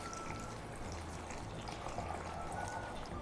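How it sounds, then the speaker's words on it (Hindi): A soft, steady trickle of a glass of water being poured into peach drink ingredients, quiet and continuous for a few seconds with faint background hiss. "और अब हम 1 गिलास पानी का डालेंगे।"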